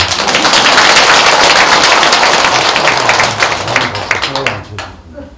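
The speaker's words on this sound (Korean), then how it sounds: "이럴 때 박수 치는 거예요." Loud, dense clapping from a crowd at a Korean Buddhist eye-opening consecration ceremony in a temple hall, sustained and then fading to a few scattered claps as a voice comes in.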